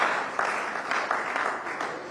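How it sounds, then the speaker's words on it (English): Audience applause at a town hall on disability rights in Nigeria, a dense steady wash of many hands clapping, moderately distant and sustained throughout without talk. "applause"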